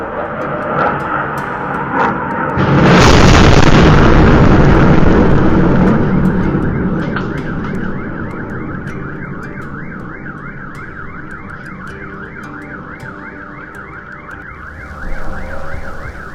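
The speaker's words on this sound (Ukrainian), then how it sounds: "момент прильоту некерованої авіабомби у двір сусіднього будинку" An unguided aerial bomb blasts in a residential yard in Kharkiv, a loud roaring burst followed by the rising and falling wail of a car alarm that repeats steadily and close by for many seconds, with no speech.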